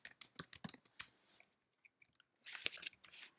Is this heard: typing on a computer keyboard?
yes